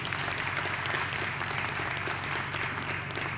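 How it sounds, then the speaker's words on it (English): An audience at a graduation ceremony claps steadily for a few seconds after a musical performance, a dense wash of applause filling the room with no voices on top. "A round of applause, ladies and gentlemen, for their fantastic performance"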